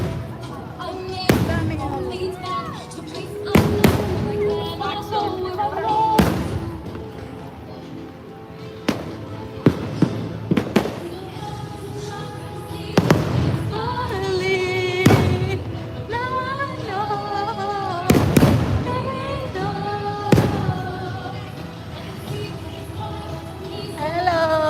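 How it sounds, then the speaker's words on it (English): Fireworks at Disney World burst in loud, sharp booms spaced every few seconds, with crackles between them, while music plays and a crowd murmurs in the background. "Fireworks are going."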